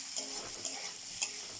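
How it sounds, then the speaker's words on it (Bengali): Chopped onions frying in the oil left from frying tilapia fish, a steady close sizzle with occasional stirring scrapes and small pops, no voices. "পেঁয়াজটা ভাজা হবে"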